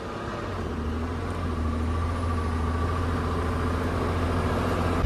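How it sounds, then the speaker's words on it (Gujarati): A truck climbs a mountain ghat road, its engine droning low and steady with a rising strain, the noise heard from inside the cab and growing slightly louder throughout. "ગાડી ઘાટ ચડતી હોય ભાઈ એટલે અવાજ કેવો કાઢે"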